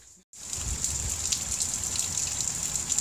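Steady rain falls and splashes onto a surface nearby, a dense, even hiss of drops that sets in abruptly after a brief dip to near-silence and continues without voices.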